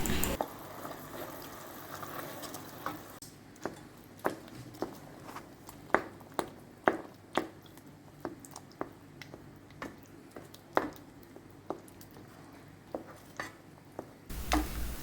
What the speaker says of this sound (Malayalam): അതിലേക്ക് നമ്മൾ അരച്ച് വെച്ച ചക്കക്കുരുവിൻ്റെ ആ മിക്സ് നമുക്ക് ഇതിലേക്ക് ഇട്ട് കൊടുത്ത് നന്നായിട്ട് ഈ കട്ട കടയോളം ഒന്ന് ഇളക്കി കൊടുക്കാം